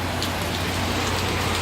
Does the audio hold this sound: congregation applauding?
no